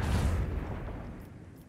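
Lance battery volley from a starship in Warhammer 40K: Rogue Trader, a single deep booming blast that rolls and decays over a second or so, heard alone.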